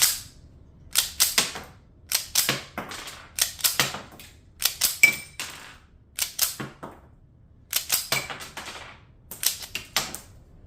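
Shots from an Alpha Foxtrot compact 1911 pistol suffering failure-to-feed problems from a feed ramp issue ring out as sharp, loud cracks, mostly in quick pairs and triplets separated by short pauses, over a quiet outdoor background.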